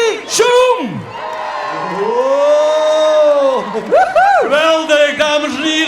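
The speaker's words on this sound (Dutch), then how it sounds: "Geef ze geweldig applaus." An audience at a live show in Maastricht, Limburg, cheers and whoops loudly, with rising and falling shouts over a steady crowd roar and no distinct clapping.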